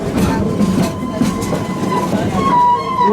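The Busch Gardens Serengeti Express train runs steadily on its rails with a continuous rumble, rhythmic wheel clatter and a faint metallic whine, while a narrator speaks over it.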